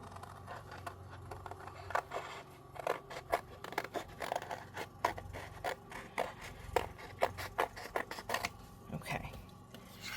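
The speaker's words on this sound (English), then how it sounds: "I'm going to start by just trimming this down." Paper being trimmed for a thank-you card, a close series of crisp snipping and scraping cuts in an uneven rhythm, with faint low background sounds.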